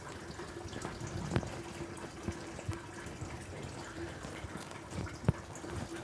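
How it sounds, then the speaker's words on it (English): Water running and refilling a toilet tank after a flush, a continuous hiss and trickle with small clunks and drips, fairly close and moderately quiet. "All I did was flush."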